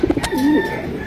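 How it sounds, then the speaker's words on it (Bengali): A light-coloured racer pigeon gives a single close, clear coo, a short rising-and-falling throaty call after a few brief soft notes. "এটা হচ্ছে সবজি রেসার কবুতর, একদম লাইট কালারের মধ্যে"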